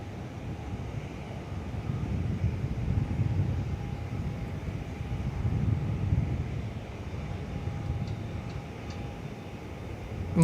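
Netlink airliner on approach to land at Perth airport, a distant low rumbling engine drone with wind noise and a faint steady whine, swelling gently and easing over several seconds.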